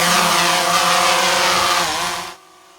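A DJI Phantom 3 quadcopter drone during auto takeoff, a close, loud, steady whine of spinning propellers with layered motor tones that fades sharply near the end.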